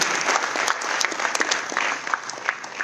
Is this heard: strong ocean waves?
no